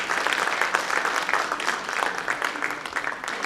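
Dense, steady applause from a seated audience at a mushaira, an Urdu poetry gathering, with many hands clapping together close and loud throughout, without speech.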